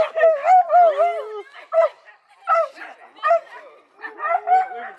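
A dog lets out a string of whining yips and short barks, close and fairly loud, in bursts separated by brief pauses.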